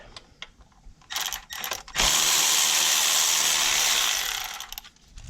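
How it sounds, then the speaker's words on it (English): Bolts on brackets holding wiring to the fuel rail of a Toyota Tundra, Sequoia, 4Runner or Lexus GX470 are loosened with a ratchet: close, brief clicking bursts, then a loud, steady mechanical whirr for about two seconds that tapers off. "Got a couple brackets here holding some more wiring to this fuel rail. We're going to loosen those."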